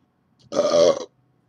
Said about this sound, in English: And there's your burp for the day.